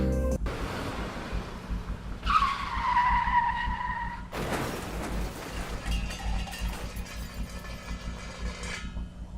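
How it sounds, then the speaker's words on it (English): A car skids with a drawn-out tire squeal and is then rear-ended in a crash, a sudden loud impact followed by a crunching, rattling aftermath under steady road noise, with no speech. "this idiot hit us from behind, knocked us into another car, and caused damage on that car"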